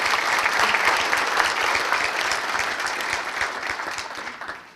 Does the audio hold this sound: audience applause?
yes